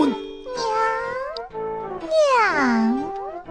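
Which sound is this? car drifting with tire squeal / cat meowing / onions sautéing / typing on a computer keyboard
cat meowing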